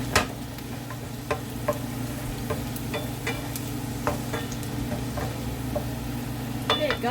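Garlic fries softly in a pan while a utensil scrapes and taps now and then, a low steady sizzle with scattered clicks, no talking.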